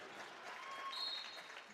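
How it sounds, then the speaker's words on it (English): Fans in attendance at a women's basketball game against Lesley applaud in a steady, moderate wash of clapping from a crowd, somewhat distant in the gym, swelling slightly in the middle before easing off. "It's a nice round of applause from fans in attendance here"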